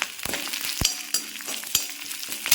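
Dried red chillies and small shallots fry in hot oil in a pan over medium heat, a steady close sizzle broken by sharp crackles and pops and a few stirring scrapes.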